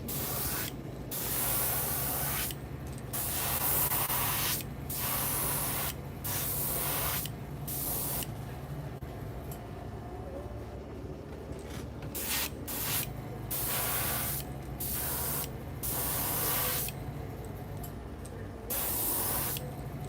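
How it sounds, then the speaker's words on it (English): An airbrush sprays white paint onto a jerkbait fishing lure, a steady close hiss broken by frequent short pauses as the trigger is released and pressed again. "I'm gonna paint this jerkbait white too, since I have the white in the airbrush right now"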